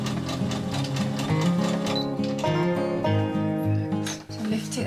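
Sewing machine stitching cotton wrist wraps for weightlifting and yoga, running steadily and loudly close up with a continuous rapid mechanical whir and a brief dip near the end, no talking.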